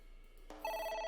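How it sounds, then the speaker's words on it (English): Telephone ringing in the video game AI: The Somnium Files: a short click, then a bright electronic trilling ring that starts abruptly and holds steady, clean and moderately loud, with no voices. "Oh, A phone. Should I pick it up?"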